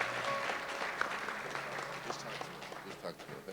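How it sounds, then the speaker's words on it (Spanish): A small group of young people at a camp claps in scattered, moderate applause that tapers off, with voices talking over it. "Dale un aplauso."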